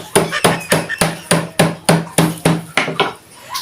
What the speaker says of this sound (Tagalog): Ang tanglad, pinupukpok ko na.